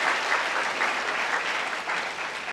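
Steady audience applause during a county magistrate's year-end speech, a dense continuous patter of many hands clapping at an even level throughout, with no talk.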